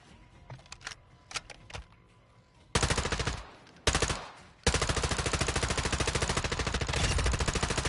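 An M4 rifle fires in a video game: a few sparse clicks and handling sounds open, then two loud bursts of rapid automatic fire, the second long and steady with an even, fast rhythm, close up.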